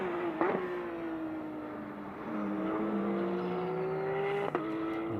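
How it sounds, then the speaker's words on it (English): A Porsche GT race car rejoins the circuit at Motorland Aragon during a four-hour endurance race, its engine droning at a distance with a rising and falling pitch as it accelerates, fairly faint. "As out comes the 98 Porsche, making its way back onto the circuit"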